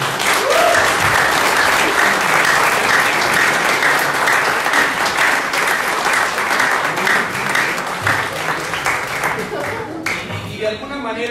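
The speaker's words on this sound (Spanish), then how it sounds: "Yo quiero que le demos un fuerte aplauso a los 13 años del grupo Detox" A crowd at an anniversary gathering for a recovery group claps loudly and continuously for over ten seconds, a thick close wall of applause with voices rising over it near the end.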